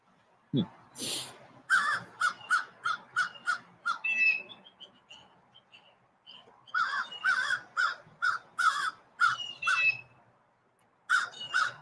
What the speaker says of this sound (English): There's a crow sitting on top of the telephone pole behind us.